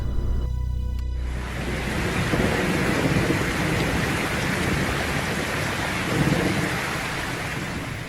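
Steady rain falls during a road trip through Georgia toward Tbilisi, a dense continuous hiss close by that starts abruptly after a second and holds without pause, with no voices over it.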